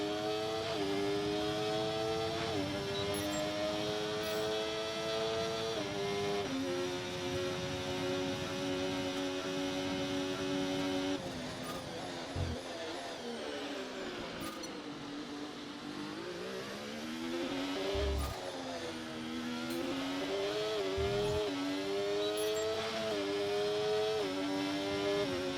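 F1 2025 racing car in a video game lapping a track, its high, buzzing engine note holding steady on the straights, then dipping and climbing again through gear changes and corners, continuous and loud.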